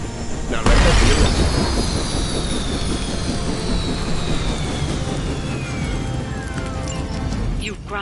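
Helicopter downed in the Marvel's Midnight Suns video game: a sudden loud burst followed by a sustained roaring engine whine with descending tonal sweeps as it drops, dense and continuous for several seconds.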